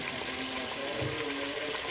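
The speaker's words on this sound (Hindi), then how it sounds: "इसमें मैंने ये थोड़ा सा पानी डाल के इसमें शामिल कर दूँगी।" Water poured from a jug into frying curry masala for an aloo anda curry gives a steady, close, rushing pour with faint sizzle underneath, continuous throughout and with no talk.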